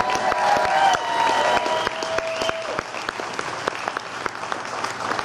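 An indoor concert audience claps for the venue building and staff, a dense burst of applause from the crowd with scattered whoops, sustained and fairly loud throughout with no talking over it.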